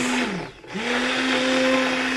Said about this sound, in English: that's all you do with the immersion blender, and it is so easy